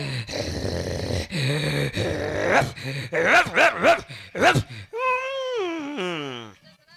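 A person imitates a female dog, voicing yelps and whimpering whines in a run of pitched, bark-like bursts. The strongest whines come toward the end, loud and close, with no other sound behind them.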